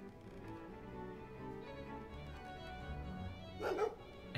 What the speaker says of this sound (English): Is the dog guarding?